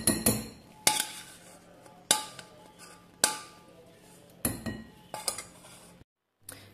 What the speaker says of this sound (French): je rajoute mon chocolat fondu et ensuite je mélange